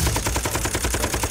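Rapid automatic gunfire in an animated fantasy series as armed guards open fire on a lone fighter at their base, a dense, loud burst of closely spaced shots.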